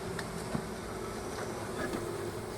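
Honey bees hum steadily around an open beehive as a super is handled, a dense, continuous buzz with no voices over it.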